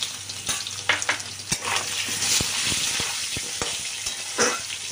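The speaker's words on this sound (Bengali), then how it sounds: "এবার আলুটাতে একটু সামান্য হলুদ আর নুন দিয়ে আলুটা ভেজে নিই।" Diced potatoes fry in hot oil with turmeric and salt for a fish curry, giving a continuous sizzle broken by scraping stirs and clatter of a utensil against the pan, close and moderately loud.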